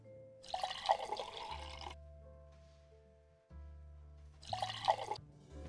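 In the game One Night: Burlesque, water is poured into a drink over ice in two short, splashy bursts with a pause between them, set over a quiet, low background hum.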